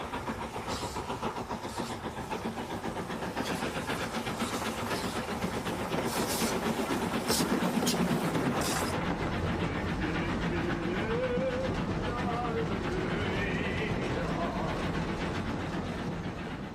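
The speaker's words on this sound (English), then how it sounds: "There were 476 different types of steam locomotive in Britain, like the O2 class on the Isle of Wight." An O2 class steam locomotive runs on the Isle of Wight, a steady loud rumble of engine and rolling wheels with rhythmic rail clatter throughout, and no voices.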